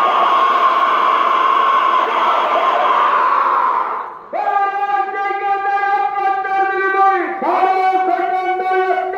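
Large, dense crowd noise at a village fair (yatra), a broad steady roar for about four seconds, then cut to a loud, bright tonal sound of horns or music over the crowd for the rest.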